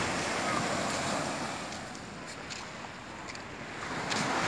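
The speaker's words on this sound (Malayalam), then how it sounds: "വെള്ളത്തിലെ നല്ല തിരയുള്ള സമയമാണിത്" Ocean waves washing onto the beach at Ras Tannura, Saudi Arabia: a continuous broad surf roar that swells and eases, mixed with gusty wind noise on the microphone.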